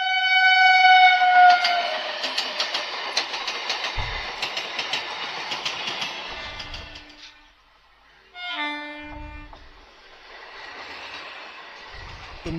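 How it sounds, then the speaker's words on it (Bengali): Trains rumble past a closed railway level crossing, a loud horn blast sounding over the passing cars, then a quieter lull before another horn and more rail noise at moderate distance. "মিনিমাম 3টে ট্রেন অলমোস্ট চলে গেল"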